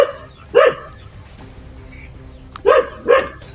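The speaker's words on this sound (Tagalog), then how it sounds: "kung narinig mo yung aso mga kamaster" A dog barks at a house in a Philippine neighborhood: three sharp barks, one early and two close together near the end, moderately near, over faint insect chirping and low background hum.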